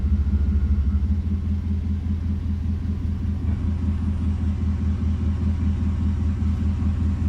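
A Chevrolet Silverado pickup truck bought cheaply and just revived after transmission problems drives along, its low engine rumble and road noise steady and close throughout.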